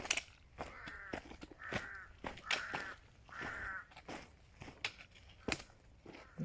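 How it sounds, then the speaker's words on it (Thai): Crows caw repeatedly outdoors on a Saturday morning at Khao Khiao, a series of harsh drawn-out calls in an uneven rhythm, moderately near, mixed with scattered clicks and light rustling and no talk. "เราได้ยินเสียงอีกา"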